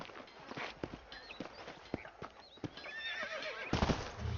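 Horses in the video game Red Dead Redemption clip-clop along at a walk in an uneven hoof rhythm, with several whinnies and neighs rising over the hoofbeats at close range.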